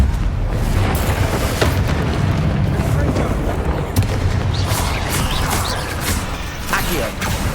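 Confringo blasting spells explode in Hogwarts Legacy combat, a dense, continuous roar of booms and bursts with sharp impacts scattered throughout, loud and close, with game voices mixed in.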